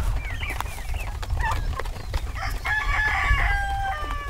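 Chickens cluck and a rooster crows nearby on a village farm in Zalakhvenye, Bykhov district, Mogilev region; scattered clucks come first, followed by a long, drawn-out crow over low background noise.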